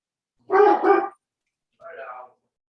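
During an online school board meeting, a dog lets out two short barks picked up by a member's microphone, the first louder and doubled, the second softer, with silence between.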